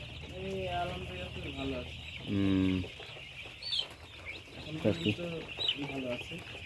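Chickens on a poultry farm cluck in short, repeated bursts, with one louder squawk in the middle and steady background noise, while people talk nearby.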